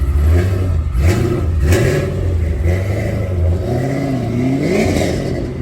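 A 1990s Honda Civic EK's B16A engine with Hondata S300 and new exhaust revs repeatedly, its pitch climbing and dropping in several throaty bursts over a steady low rumble.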